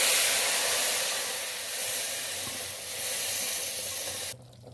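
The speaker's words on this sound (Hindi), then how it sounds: "हम इस मसालों को अच्छे से भून लेंगे।" Nihari masala spices frying in a pan for chicken nihari give a loud, steady sizzle and hiss that runs without a break, then drops away abruptly near the end.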